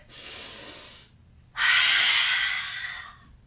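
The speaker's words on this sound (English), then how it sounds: "Take a deep breath." Two slow breaths during a children's yoga stretch, a softer inhale-like hiss followed by a longer, louder airy exhale, close to the microphone with no talking.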